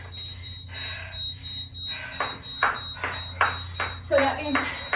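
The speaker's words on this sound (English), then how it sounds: "so that's our timer" A workout timer alarm sounds during a skipping session, a thin steady high beep running through the clip while a person talks and breathes over it.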